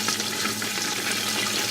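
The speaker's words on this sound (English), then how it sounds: "And what you're actually seeing in there is water boiling." Water bubbling at a rolling boil, heard close as a steady dense hiss and burble of bursting bubbles with no pauses.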